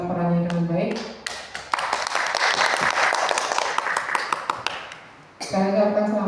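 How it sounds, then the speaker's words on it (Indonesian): Audience applause at a seminar orientation in Surakarta: a dense wash of clapping from many hands swells and fades over several seconds, with a voice speaking briefly before and after it. "Tepuk tangan untuk peserta kita yang telah mempresentasikan hasil laporannya dengan baik."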